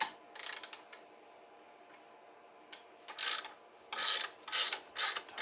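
A ratcheting wrench tightens a bolt on a homemade sheet metal tool in short bursts of close, crisp clicking, one early set, then a pause, then four or five quick runs of clicks, with no talking.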